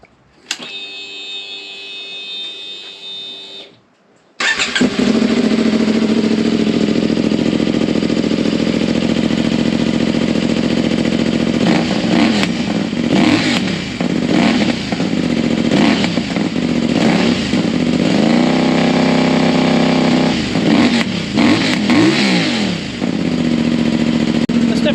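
A CFMoto 450 motorcycle fitted with an aftermarket exhaust and muffler starts after a brief lower sound, then idles loudly and close, with several sharp throttle revs rising and falling over the steady engine note.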